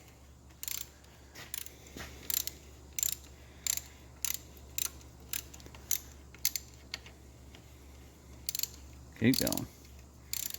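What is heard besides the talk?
socket ratchet loosening a bolt on a pickup engine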